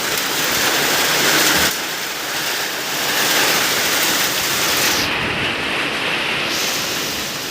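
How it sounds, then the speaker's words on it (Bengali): Steady, dense downpour fills the whole clip with a broad hiss, loud and close, with no voices. "ভেজা বৃষ্টি আসতেছে খালি"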